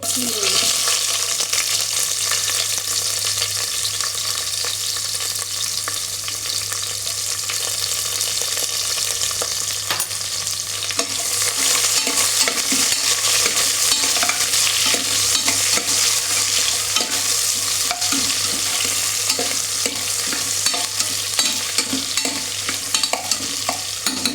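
Onions fry in a pan until brown for a tomato bath dish, with a continuous bright sizzle of hot oil and repeated scraping strokes of a stirring spoon, close and steady throughout.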